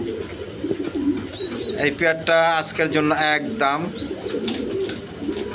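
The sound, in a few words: Indian Bombay pigeons cooing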